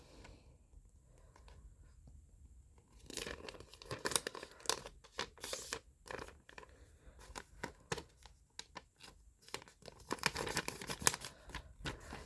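Origami paper being folded and creased by hand, crisp crinkling and rustling bursts that come in irregular clusters, quiet and close, with a near-silent stretch at the start.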